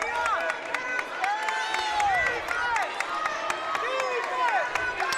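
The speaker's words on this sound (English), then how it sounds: "Crowd getting into it here, as they should." Spectators at a girls' high school basketball game cheer and clap, a lively crowd roar punctuated by sneaker squeaks from the court, with a commentator's voice running over it.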